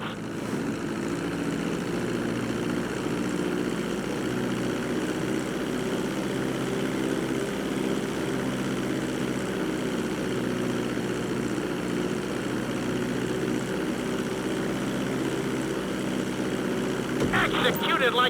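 A plane landing in the video game GTA 5 gives off a steady, droning engine hum that holds level throughout. A brief rustle comes near the end, and there is no clear talk over it.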